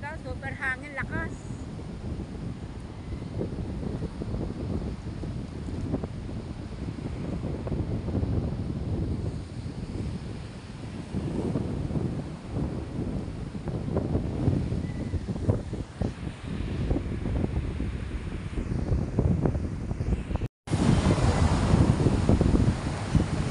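Very strong wind roars loudly and continuously across the microphone in a storm that toppled a talisay tree, with voices talking intermittently beneath the gusts.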